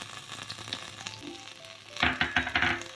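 Mutton masala sizzles in a hot pan as chili powder goes in, a low steady fry that swells into louder crackling and stirring bursts in the final second.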